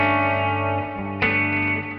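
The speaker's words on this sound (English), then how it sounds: "We're using the double verb normal clean tones for me." Clean electric guitar tone through the double reverb of a Fractal FM3, a sustained chord ringing with lush reverb, then a second strum around the middle that blooms and decays with a long, shimmering tail.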